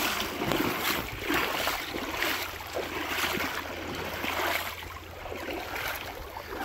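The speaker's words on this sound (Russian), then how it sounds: "Речка такая посильнее здесь." Fast-flowing river stream crossed on foot in the Latvian countryside, a continuous rushing, broadband water noise with gusty wind-like surges, fairly close and steady throughout.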